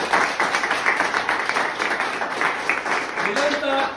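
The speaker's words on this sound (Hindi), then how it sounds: "जोरदार ताली बजाओ उनके लिए" Classroom audience of mobile technician trainees clapping for a teacher on joining day, a fairly loud burst of hand claps with voices talking over it.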